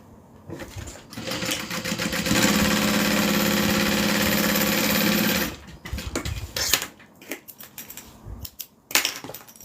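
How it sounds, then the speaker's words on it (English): A sewing machine stitches along the top edge of a bag's lining in one steady, close whirring run of about three seconds, then stops, leaving soft handling clicks and rustles of fabric. "we're going to sew along the top of the lining."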